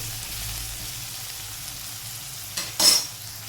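Bitter gourd pieces salted and dusted with a little turmeric frying in oil, a soft steady sizzle close by with a couple of short stirring scrapes near the end.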